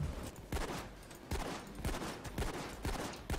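Rapid, repeated gunfire in the heist game Payday 2 crackles in bursts throughout, a steady fusillade of fairly quiet shots with no talking.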